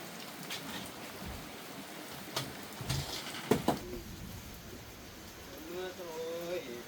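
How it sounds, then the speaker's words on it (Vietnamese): Rain falling outdoors, a steady broadband patter with a few sharper drips and knocks, while people talk softly over it. "Mưa rồi. Em mưa rồi."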